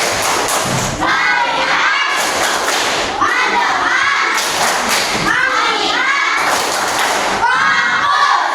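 A class of children performs the tepuk fokus clapping chant, rhythmic bursts of claps and thumps in quick patterns alternating with their shouted sung responses, loud and close in a classroom.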